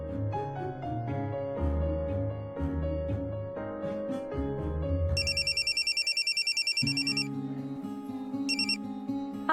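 Telephone ringing in a domestic scene, a bright electronic trill in rapid repeated pulses over soft background music, sounding once for about a second and then again briefly.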